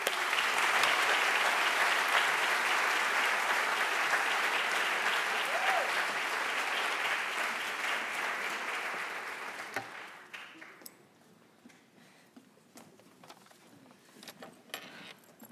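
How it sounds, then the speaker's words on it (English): Audience applause at a university lecture and book signing, loud, dense clapping from a large crowd that runs steadily for about ten seconds before thinning out into a few scattered claps and room noise. "A round of applause, please, for them and you"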